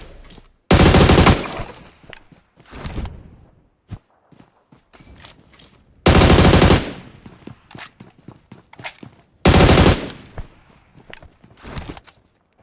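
Bursts of rapid automatic gunfire in a battle royale video game, three loud sustained volleys separated by quieter stretches of footsteps, scattered single shots and in-game movement noise.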